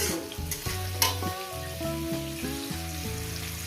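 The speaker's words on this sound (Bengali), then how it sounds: "পেঁয়াজটাকে আমি চার মিনিট ধরে ভেজে নিয়েছি" Onions frying in a pan, a steady close sizzle running throughout, with a few utensil stirs near the start and soft music playing underneath.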